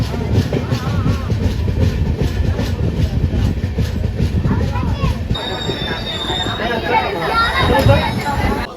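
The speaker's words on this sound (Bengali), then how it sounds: "ট্রেনের গতি ক্রমশ ধীর হয়ে আসছে আর আমরা প্রবেশ করছি এখন রামনগর স্টেশনে" The Tamralipta Express slows into Ramnagar station, its wheels rattling and clacking over the rails beneath a loud rumble, with high metallic squeals of braking wheels coming in near the end and voices talking throughout.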